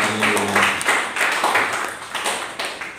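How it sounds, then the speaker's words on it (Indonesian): A short burst of church congregation clapping and applause at a Pentecostal service, continuous and moderately loud, with a faint tone at the start. "Tepuk tangan buat Tuhan Yesus"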